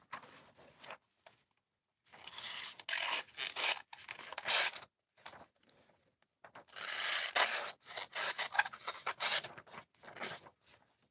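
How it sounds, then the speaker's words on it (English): Dull knife slicing through paper, giving scratchy rasping squeaks in two bursts separated by quiet, close and moderately loud with no talking. "y'all heard that squeak cutting the paper?"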